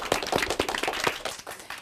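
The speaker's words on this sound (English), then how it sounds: "Let's have a big round of applause for yourself for a job well done." Clapping from a small group of elementary students and adults at a school derby match event, a few close, uneven claps blending into light, steady applause that carries on for about two seconds without talk.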